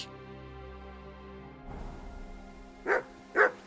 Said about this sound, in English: Yeah, that's a dog.